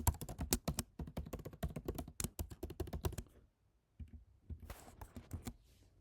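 Fast typing on a computer keyboard while writing Python code, a close run of crisp key clicks that pauses briefly, then resumes in a shorter burst.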